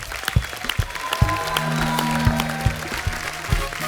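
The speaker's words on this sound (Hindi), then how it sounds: "जोरदार तालियां होनी चाहिए" Studio audience applause on a comedy talk show, a dense patter of clapping hands with a few louder claps standing out, steady for several seconds under faint music.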